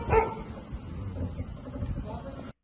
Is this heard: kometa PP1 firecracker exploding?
no